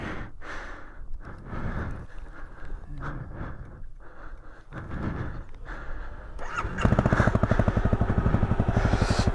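A motorcycle engine runs at low revs, first muffled under gusty breath-like wind noise, then a loud, close, rapid rhythmic thrum for the last few seconds.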